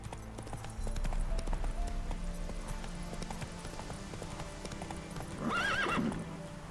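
Horse hooves clip-clop rapidly as the horse Roach gallops in The Witcher 3: Wild Hunt, a steady close rhythm that ends with a loud neigh near the end.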